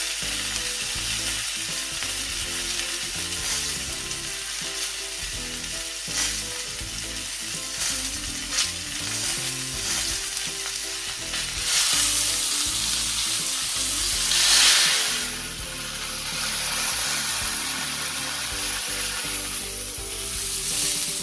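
A well-done rib eye steak frying in a pan on medium-low heat, a strong close sizzle throughout with occasional stirring scrapes and a brief surge of louder spitting in the middle.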